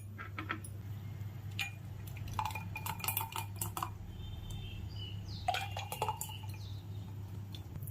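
Ice cubes dropped into a glass of jamun fruit juice, several light clinks and ticks of ice against glass scattered over a faint steady hum in a home kitchen.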